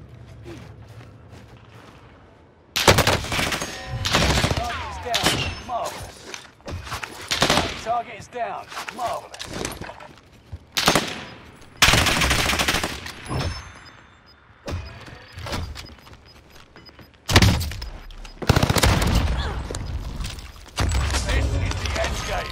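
Heavy automatic gunfire in Call of Duty's Rebirth Island erupts in loud, dense bursts after a quiet opening, with rapid volleys recurring through the match and brief lulls between them.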